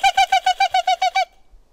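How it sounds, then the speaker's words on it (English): A barred owl gives a rapid run of about nine loud, close hooting notes in an even rhythm, then stops abruptly, leaving near silence. "A barred owl. Who cooks for you?"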